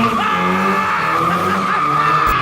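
Tires skid and squeal steadily as a lowrider shark cart spins donuts, a loud continuous screech with engine noise beneath it, holding close for the whole stretch.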